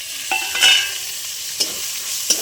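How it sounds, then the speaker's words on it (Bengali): Tomatoes with turmeric, cumin powder and salt being stirred and fried in a pan, giving a steady soft sizzle with a few sharp scrapes of the spatula against the metal, close and alone with no voices. "ভালো করে কষিয়ে নেব।"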